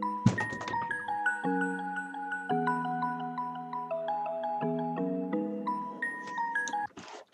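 A bell-like synth melody played in FL Studio for a Rod Wave type beat, clear sustained chime notes stepping through a slow chord pattern, with no voice over it.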